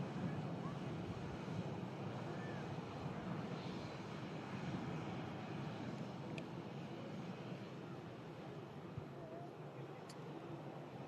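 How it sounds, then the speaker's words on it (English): A TUI Boeing Dreamliner airliner at Manchester Airport, a broad, steady jet engine roar filling the air at a distance, heard outdoors with wind noise and someone talking faintly. "TUI Dreamliner on the south side out to Cancun."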